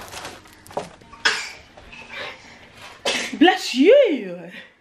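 A single sharp sneeze bursts out amid casual talk, followed by more speech and a rising, sing-song voice.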